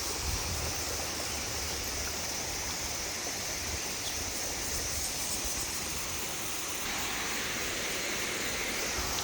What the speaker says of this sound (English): That's a pretty nice waterfall.